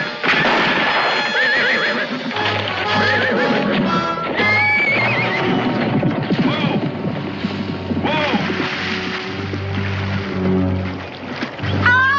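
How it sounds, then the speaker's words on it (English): A horse in a 1969 western drama neighs and whinnies loudly and repeatedly over a busy mix of hoofbeats, music and other scene sounds. "I told you that horse was gun shy"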